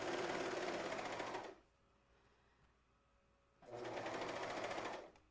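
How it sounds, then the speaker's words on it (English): A serger overlocking machine stitches and trims a seam, its fast, even motor whir running loud for about a second and a half, stopping for two seconds, then starting again and running steadily before cutting off. "the serger is going to take care of, because you can see this whole bit kind of coming"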